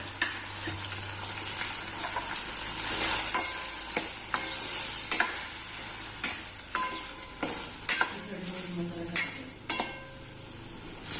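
Cooked vegetables tipped into softened tomatoes in a hot pan for a green moong curry, sizzling steadily while a spoon stirs and clinks against the pan several times.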